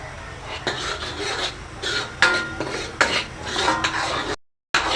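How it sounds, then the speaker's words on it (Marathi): Ground masala is stirred and roasted in a pan for a Malvani chicken gravy. A spoon scrapes and clinks against the metal in uneven strokes over a low sizzle, close by, with a brief silent gap near the end. "मसाले चांगला परतवा छानपैकी भाजायला हवं"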